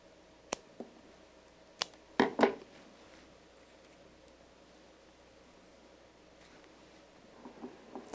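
Chrysanthemum flower stems being cut with shears for a crescent-shaped floral arrangement, heard as a few sharp, close snips and clicks with quiet gaps between them.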